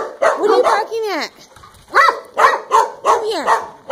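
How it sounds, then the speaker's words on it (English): A dog barks repeatedly in sharp bursts close by, with a rising whine between barks and a person's voice mixed in. "What are you barking at?"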